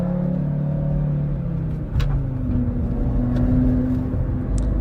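An Audi RS3 engine rumbles loudly with deep, throaty revving, the pitch dipping and then climbing again as the throttle rises, close and powerful throughout.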